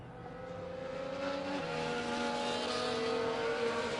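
Race car engines in a racing game drone steadily behind a safety car, several overlapping tones shifting pitch as the cars weave on track, a constant moderate hum with no voices.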